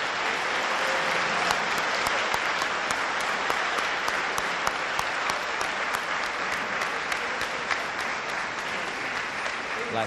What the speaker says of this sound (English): How about a big round of applause for these folks' dedication?